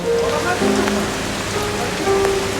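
Heavy rain drums steadily on a surface nearby, a constant dense patter with a few brief tones in the background.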